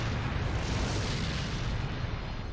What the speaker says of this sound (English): Quick incendiary grenade for him.